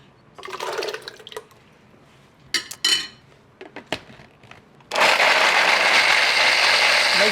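Blender pulverizing soaked rice and coarse salt for a rice drink, with irregular clicks and clatter of preparation, then the motor starts abruptly and roars loudly and steadily to the end.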